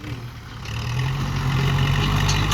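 A farm tractor engine runs close by while field soil is being spread, a steady low rumble that grows louder and fuller after the first half second and then holds evenly.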